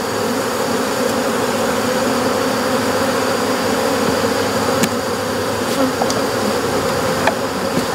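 A loud, dense, continuous hum of honeybees swarms close around hive frames as a colony is split, with occasional faint clicks and knocks.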